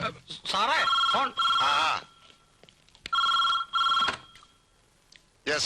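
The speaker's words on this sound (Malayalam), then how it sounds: "സാറേ ഫോൺ." A telephone rings loudly and close by in repeated double bursts of bright, warbling bell tone, with short pauses between them.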